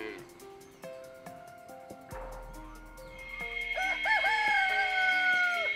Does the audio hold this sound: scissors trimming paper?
no